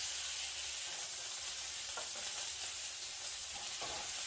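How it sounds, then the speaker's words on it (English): Cheesy potato patties searing in a pan, a soft continuous sizzle with a few faint stirring scrapes, no voices. "Really want to get a nice sear on these suckers."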